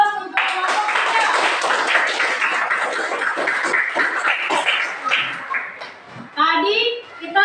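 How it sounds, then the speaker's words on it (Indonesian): Classroom applause for a student group, a dense patter of clapping with children's voices mixed in, steady and fairly loud before thinning toward the end, with a brief burst of talk near the close. "Mari kita berikan aplaus untuk kelompok 3."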